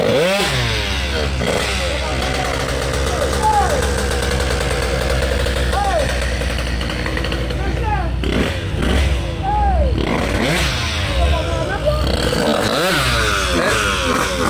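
A motorcycle engine runs loud and close for the whole stretch, a steady rough drone with occasional swells and rising revs, and voices sound over it at times.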